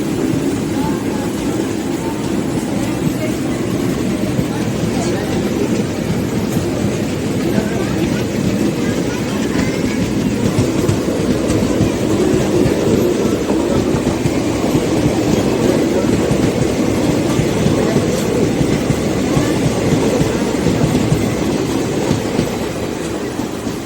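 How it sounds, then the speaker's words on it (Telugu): Ajanta Express train pulling out of platform 2 at Kamareddy station, a loud, steady rumble and rolling clatter of railcars that holds evenly from start to finish. "అజంతా ఎక్స్ప్రెస్ బయలుదేరింది ప్లాట్ఫామ్ నెంబర్ 2 మీద కామారెడ్డిలో."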